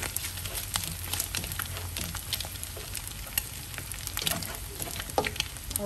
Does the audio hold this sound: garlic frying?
yes